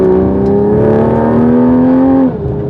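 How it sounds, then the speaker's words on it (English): Toyota A90 Supra with an AWE exhaust and carbon fiber intake accelerating under load, the engine tone rising steadily over a sustained drone with turbo whine, then dropping off sharply near the end. "when we get on it, you can totally hear your turbo spooling up"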